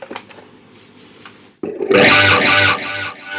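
An electric guitar plays a few muted notes, then a loud distorted chord rings out with a sweeping, swirling phaser effect from a Zoom multi-effects unit.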